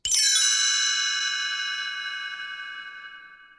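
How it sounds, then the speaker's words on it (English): A single bright page-turn chime from a Winnie the Pooh audio cassette strikes sharply, then rings out with shimmering overtones that fade slowly over a few seconds, heard alone. "You will know it is time to turn the page when you hear the chimes ring like this."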